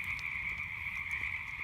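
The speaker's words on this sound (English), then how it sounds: "just enjoy the sounds of the frogs and watch the fire burn and consume" A dense chorus of frogs croaks in an outdoor nighttime setting beside a campfire, a steady high trilling drone with faint low crackle underneath.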